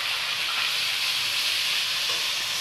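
Ginger paste and tomatoes hitting hot tempering oil in a pan for a vegetarian dish, giving a steady, loud, close sizzling hiss that holds without a break.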